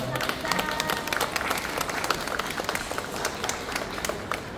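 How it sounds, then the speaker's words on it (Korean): Audience applause at a book talk with author Kang Min-hyuk at Starfield Library, a steady dense wash of many hands clapping throughout with a few voices mixed in. "여러분 다시 한번 큰 박수 부탁드리겠습니다"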